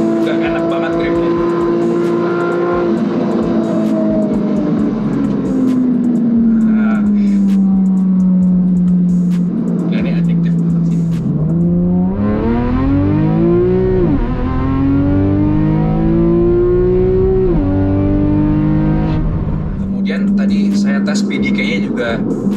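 A 2012 Porsche Carrera S with a PDK gearbox accelerating at full kickdown in second gear, its engine climbing loudly in pitch with quick gear changes, heard from inside the cabin with someone talking over it.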